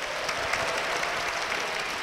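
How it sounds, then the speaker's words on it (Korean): Church congregation applauding to welcome a guest to the front at a Full Gospel church service, a steady, dense wash of many hands clapping at moderate loudness throughout, with no talk. "박수로 모시겠습니다."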